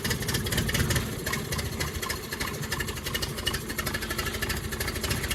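A Yamaha 9.9hp outboard motor runs steadily with throttle opened up, a dense continuous mechanical drone with fast rhythmic ticking, close and fairly loud throughout, no talking.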